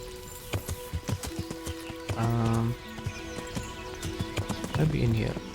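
Horse hooves clop in the Kingdom Come Deliverance video game, a steady series of near footfalls with a couple of louder tonal bursts, under music.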